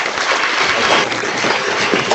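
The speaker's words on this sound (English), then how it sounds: "give a round of applause for Hall of Famer Randall McDaniel" A round of applause for a Pro Football Hall of Famer, dense, steady clapping from many hands that holds evenly throughout without talk, likely over unmuted microphones.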